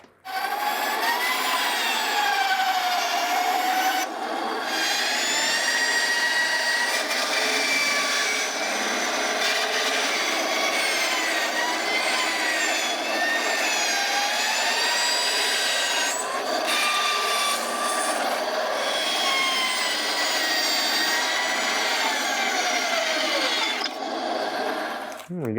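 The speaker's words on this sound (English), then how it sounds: "That bandsaw worked a treat." A bandsaw cuts through a tape-covered workpiece, producing a steady, close, continuous rasping whine that wavers in pitch and runs nearly uninterrupted, with brief dips between passes.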